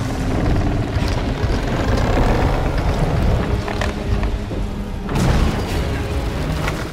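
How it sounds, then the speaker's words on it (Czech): Loud, dense rumbling roar of explosions as a navy warship is split in half at sea, with a sharper blast surging near the end, sustained and heavy throughout. "obě půlky se dál rozlítly řadou výbuchů tak, že nikdo neměl šanci přežít"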